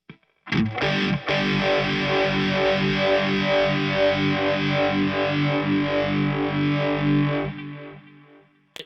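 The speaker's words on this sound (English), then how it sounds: "it did really help sculpt the sound of the phaser" A distorted electric guitar sustains chords through a Keeley Vintage Phaser at a faster speed, sweeping quickly and evenly, swirling up and down in a steady pulsing rhythm.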